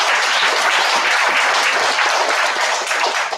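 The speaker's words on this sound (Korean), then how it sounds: "응원의 박수를 부탁드리겠습니다" A crowd at a gathering gives loud, dense, sustained applause, with clapping filling the whole stretch evenly and no talking.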